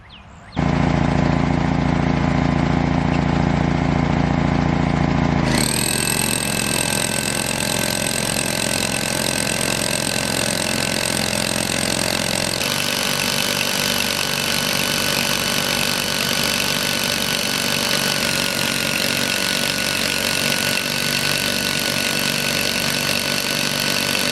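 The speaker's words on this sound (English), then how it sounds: "Why don't we fire up the generator and try out the new drill?" A loud, steady generator drone runs throughout, joined after a few seconds by the harsh, continuous pounding roar of a powerful rock drill driving into rocky ground.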